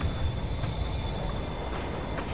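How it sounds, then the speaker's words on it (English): A train in a Spider-Man video game rumbles along with a steady low rolling drone, a faint metallic hum and a few soft knocks, heard on its own with no talk. "Train moving. Lee's getting away."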